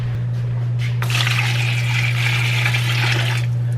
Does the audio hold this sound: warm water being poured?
yes